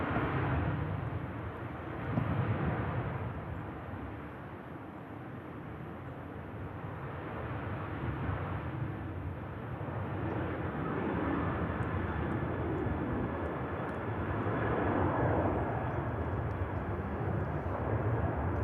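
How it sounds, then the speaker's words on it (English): A Jet2 airliner departs to Paphos from the south side of an airport, a continuous broad engine roar that rises and falls gently over the whole stretch, heard from a distance outdoors with no voices. "Jet2 on the south side, departing out to Paphos."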